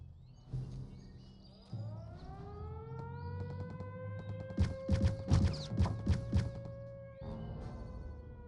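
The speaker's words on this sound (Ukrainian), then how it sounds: "в мене в Полтавській області повітряна тривога" An air raid siren sounds in the Poltava region, a long rising and sustained wail over a faint background, broken midway by a burst of rapid clattering knocks before the drone returns.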